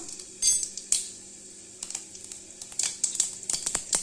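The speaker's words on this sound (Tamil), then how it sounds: "கடுகு பொரிஞ்சிருச்சுங்க." Mustard seeds splutter in hot oil with asafoetida while tempering for idli sambar, giving scattered sharp pops and crackles that grow busier toward the end over a faint steady sizzle.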